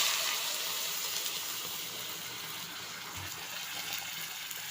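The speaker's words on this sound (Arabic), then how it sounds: "هحط الميه اللي بتغلي" Boiling water poured from a kettle onto cooking meat in a pot at home, a steady rushing gush with a hissing, splashing wash that holds at the same level for several seconds, with no talking.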